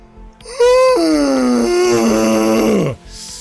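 A long, loud groaning yawn voiced to mimic Chewbacca's growl, rising then sliding down in pitch for about two seconds before cutting off.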